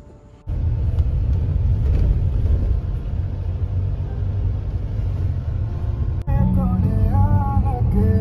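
A car driven through Kolkata toward Biswa Bangla Gate by a new driver in his first week: a steady, loud engine-and-road rumble from inside the cabin, with a brief interruption near the end and faint tonal sounds over the drone.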